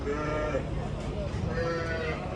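Sheep and lambs bleat repeatedly at a busy Turkish livestock market, with overlapping calls near and far over a steady hum of crowd noise and people talking.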